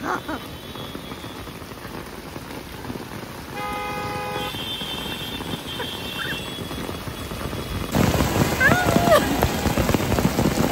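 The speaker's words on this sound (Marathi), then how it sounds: "तुफानी बारिश दाखव, इकडे दाखव ना तिला" A heavy downpour hisses steadily, swelling louder toward the end, with faint voices and a brief tonal sound in the background.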